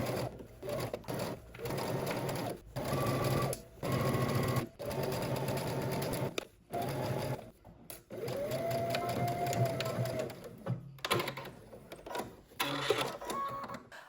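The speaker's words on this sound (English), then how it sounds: "Okay, now we're going to go ahead to the sewing machine." A sewing machine stitches a seam in quick, close runs of rapid mechanical whirring, stopping and restarting several times with brief gaps between bursts.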